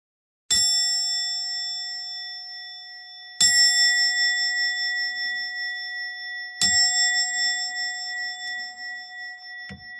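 A meditation bell is struck three times at even intervals, each strike a clear bright ding whose pure ringing tone lingers and slowly fades, with a fourth strike arriving at the very end; no voices.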